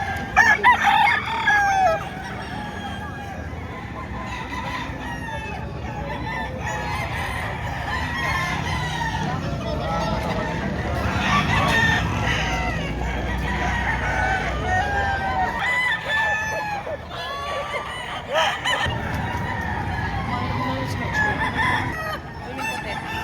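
Many roosters crow and chickens cluck over one another at a poultry market in Padre Garcia, Batangas, a loud, dense chorus that carries on throughout, with people talking in the background.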